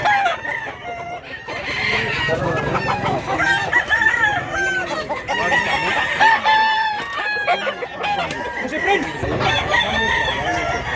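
Roosters and hens at a fowl sale in Mantalungon, Cebu, with loud, close, repeated crowing and frequent clucking throughout, and people talking in the background.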